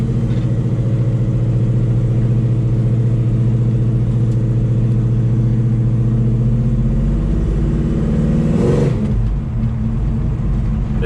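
A 1970 Chevelle with a 502 big block engine drives along, its deep rumble loud and steady. The engine note rises briefly near the end and then settles back.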